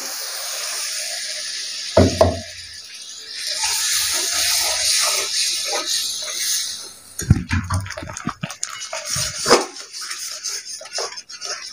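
Spice-rinse water hits a hot pan while mixed vegetables are cooked Kolhapuri style, giving a loud, sustained hissing sizzle broken by sharp clanks of a utensil against the pan.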